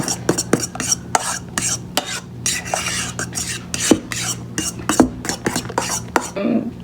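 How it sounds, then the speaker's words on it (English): Shrimp cake mixture is stirred in a bowl with a utensil, close and fairly loud, producing irregular wet scrapes and clinks against the bowl in quick uneven strokes. "So, just mix it all together."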